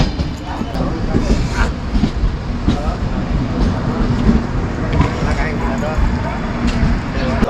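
A passenger train on the Konkan to Mumbai route running at speed, heard from inside the carriage as a loud, continuous rumble with rhythmic clickety-clack of wheels over rail joints, with voices talking over it.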